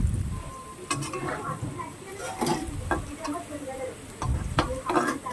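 Potatoes fry in oil in a wok and are gently turned. A steady sizzle sits under repeated scraping and tapping of the spatula, with faint background voices.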